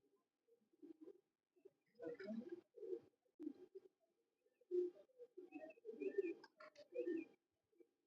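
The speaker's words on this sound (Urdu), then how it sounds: "سلکوٹی کبوتر ہیں ان کبوتروں میں" Sialkoti pigeons coo in repeated soft, throaty bursts, close by, with short pauses between phrases and a few higher chirps mixed in.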